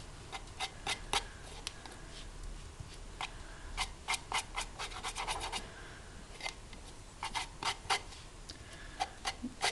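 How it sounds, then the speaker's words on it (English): Finger rubbing shimmer paint over a decorated box for a tea light flower, producing soft, close scratchy rubs in irregular bursts with quiet gaps between strokes. "with my finger, rub it around here and there."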